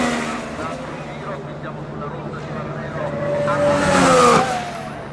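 Formula 1 V6 turbo hybrid race cars running on track, engine tone rising in pitch toward a loud peak as they pass, with a continuous roar and whine throughout and faint voices underneath.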